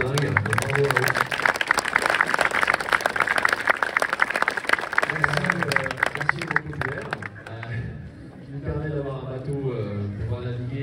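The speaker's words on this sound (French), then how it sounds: "vous pouvez les applaudir parce qu'ils font un boulot de dingue" An audience applauds the technical team at a sailing event in Antibes, a dense, continuous wash of clapping that carries on while a voice speaks over it, then thins out as the talk continues.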